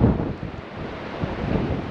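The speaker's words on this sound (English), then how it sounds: "Very windy and choppy out there today." Strong wind roars and buffets the microphone, with a rough rumbling wash of choppy sea water beneath, continuous and close, on the coast at Anglesea.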